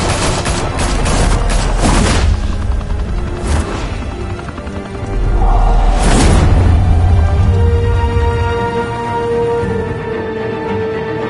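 Heavy gunfire erupts in the Batman Telltale video game, loud overlapping bursts and booming shots filling the scene, with a brief lull before another dense volley and rumbling aftermath.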